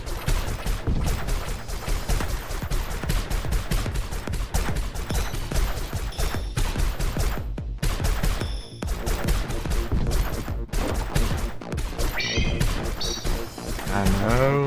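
Rapid, loud gunfire pours nonstop from the ships in Fuel Me Up, a Brazilian spaceship shoot 'em up roguelike, broken by a few short pauses and occasional crashing impacts.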